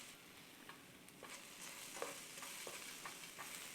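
Dry soy curls (TVP) stirred in a pan, faint scattered scraping and light rustling ticks over a soft steady hiss, close but quiet.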